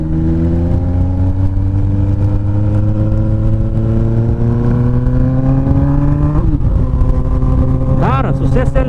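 Honda CB 1000R motorcycle with a straight-pipe exhaust, its engine droning loud and close with rising revs, then sharp popping and crackling bursts from the open pipe near the end.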